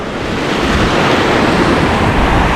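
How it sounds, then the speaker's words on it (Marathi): Sea surf at Uttan Pali beach near Mumbai, a loud continuous roar of breaking waves mixed with heavy wind buffeting the microphone, no voices. "आता आपण इथे समुद्र किनाऱ्यावर आलो आहोत तुम्ही पाहू शकता हा उत्तन पालीचा समुद्र किनारा आहे"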